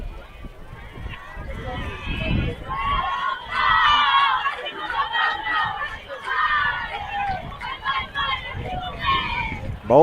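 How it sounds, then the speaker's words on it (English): Crowd at a high school football game with cheerleaders, Baltic versus Sioux Falls Lutheran, a steady hubbub of many voices with rising cheers and chanting, fairly close, while a commentator talks over it. "Baltic cheerleaders getting them going over here. Got a good crowd tonight."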